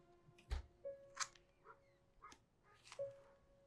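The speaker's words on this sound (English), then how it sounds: "Vincent barking yet again." Dog Vincent from the LOST TV episode gives several short barks and whimpers spread across a few seconds, fairly faint and mixed with other soundtrack noise.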